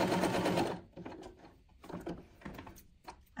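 A sewing machine stitches close along the edge of a fabric bookmark with a pocket, a loud run of rapid stitching up front followed by shorter, quieter bursts of stitches close by.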